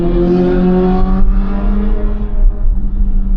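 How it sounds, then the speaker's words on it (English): A motorcycle close behind a car in traffic, a loud, steady engine drone with strong low harmonics that shift gradually in pitch, swelling and easing slightly as it holds near. "Okay, there's a motorcycle right behind."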